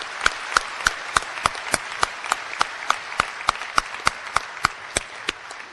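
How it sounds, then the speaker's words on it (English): A graduation and hooding ceremony crowd claps in a steady, evenly spaced rhythm, with sharp, regular hand claps standing out over a softer bed of general applause. "let's give a round of applause to Celtic Dragon, led by John Haffey and Jeff McMillian"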